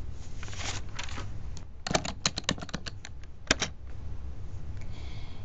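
Keys tapped on a computer keyboard at a library circulation desk, a quick burst of clicks around the middle then a couple of scattered presses, fairly close over a steady low hum.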